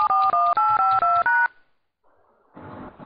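Telephone keypad DTMF tones as a voicemail password is entered, five quick evenly spaced two-note beeps, loud and close, followed by a short silence and then a brief voice prompt.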